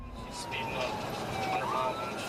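A police car siren wails steadily during a pursuit with lights and sirens on, its rising and falling tone fairly faint under continuous road and engine noise.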